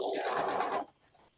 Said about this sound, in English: And I'm going to sew down